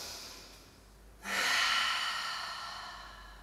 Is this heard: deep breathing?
yes